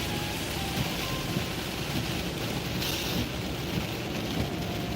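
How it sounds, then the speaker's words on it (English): Heavy rain drumming on a car driving through a downpour, a dense, steady hiss and patter filling the cabin at moderate volume with no talking over it. "So it's raining harder, removing visibility."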